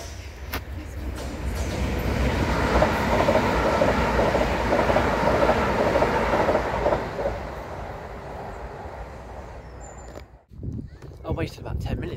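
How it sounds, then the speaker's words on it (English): A train rumbles steadily past a waiting spot near the tracks, a loud broadband roar with rhythmic rail clatter that holds for about ten seconds before dropping away abruptly, leaving quieter ambient sounds. "I wasted about 10 minutes for that train to come through."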